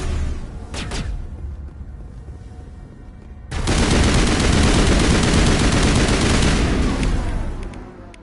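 Heavy automatic gunfire from a Mass Effect firefight erupts after a quieter stretch and roars on loud and continuous for several seconds, with a few earlier single shots.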